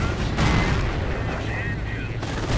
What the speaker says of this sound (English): Lots of artillery against it